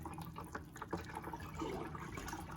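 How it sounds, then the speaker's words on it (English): Water draining through the soil and out of a large potted indoor majesty palm, a soft continuous trickle and splash with faint drips, steady and close with no talking. "Water's draining into the palm tree, so you're soaking your palm."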